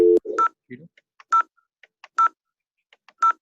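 Dialing a number on an IP phone in Packet Tracer gives a series of separate, crisp keypad tones at an uneven pace. A voice speaks briefly at the start.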